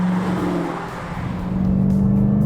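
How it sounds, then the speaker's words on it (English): A 2019 Dodge Challenger Hellcat V8 revs close and loud, a deep throaty engine note that eases off briefly and then swells again, with no talking over it. "The engine has fantastic throttle response all through its rev range, and it sounds just fantastic."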